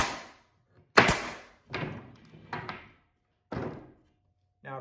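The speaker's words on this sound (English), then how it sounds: "all we have to do is insert the nail into the barrel and fire" An air punch drives a nail out through pallet wood with one loud sharp bang, followed by several quieter thuds and knocks spaced over a few seconds.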